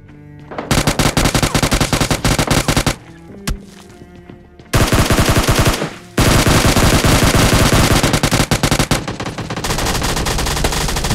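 Long automatic bursts from an MP5 in BGMI Lite, loud and close, firing in rapid continuous strings separated by brief pauses, with no talk over the shooting.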